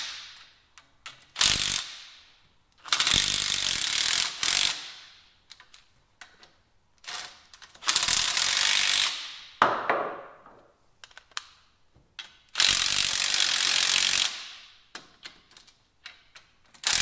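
Ratchet tightening front axle bolts on a 1977 Ford F150 during an LS swap, with several close, loud bursts of rapid clicking separated by pauses and brief handling noises.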